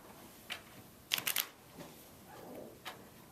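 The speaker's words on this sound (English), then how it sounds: "We will shuffle." A quick riffle of a very new, stiff deck of playing cards, a rapid fluttering burst in the middle, with a few lighter taps and shuffles around it, close and fairly quiet.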